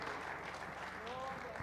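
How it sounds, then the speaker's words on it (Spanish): A church congregation claps in a sustained offering of applause to the Lord, dense, even clapping filling the room while voices murmur and call out beneath it. "Denle una ofrenda de palmas al Señor."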